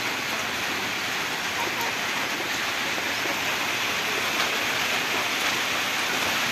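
Heavy rain pours down steadily in a continuous, loud broadband hiss that fills the whole clip, with no talk and no pauses.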